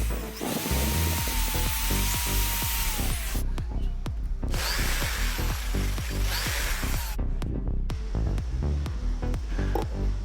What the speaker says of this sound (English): I am drilling a small hole so that I can insert the mobile bracket later